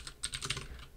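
Rapid keystrokes clatter on a computer keyboard, a quick irregular burst of soft close clicks in a quiet room.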